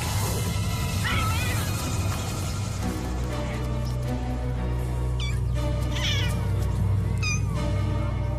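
A cat meows and caterwauls in several drawn-out, rising calls, loud and close, with scattered noise and possible voices faintly in the background.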